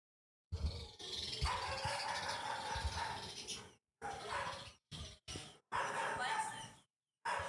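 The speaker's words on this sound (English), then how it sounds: "and also I caught birds fucking." Birds mating outdoors let out a string of squealing, clucking calls in broken bursts, fairly close and moderately loud, with short silences between them and no clear talk.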